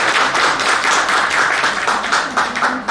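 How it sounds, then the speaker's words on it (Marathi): Loud applause from an audience honoring friends at a reunion gathering, dense rapid clapping sustained steadily and close, with no voices over it. "अशा या मित्रांसाठी एकदा आपण जोरदार टाळ्या वाजवल्या पाहिजे"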